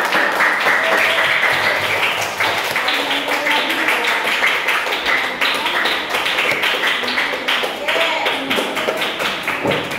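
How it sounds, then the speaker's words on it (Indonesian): Sixth-grade primary school class applauding a student group, close, sharp individual claps forming an uneven, rhythmic patter, with children's voices mixed in. "Tepuk tangan dulu untuk kelompok."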